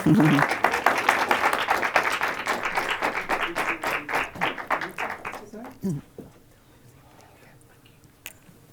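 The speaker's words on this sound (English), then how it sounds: "please give a warm round of applause for Lucy Duran" An audience at a talk in Leeds gives a warm round of applause for speaker Lucy Duran. Brisk clapping from a modest crowd fades out after about five seconds into near quiet.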